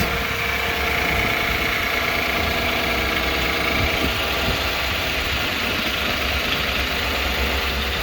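A 2017 GMC Sierra engine idling steadily after an oil change, a constant close rumble with no change in pace.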